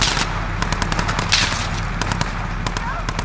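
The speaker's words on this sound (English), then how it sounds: "I shot at the driver's window and I got a marker" Rapid automatic gunfire in a Modern Warfare campaign mission, a dense rattling stream of close shots aimed at a driver's window, heard loud and steady over a rumbling background with scattered speech.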